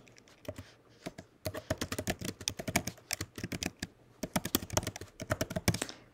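Close, crisp keystrokes on a computer keyboard as a note title is entered, coming in quick uneven bursts with short pauses between words.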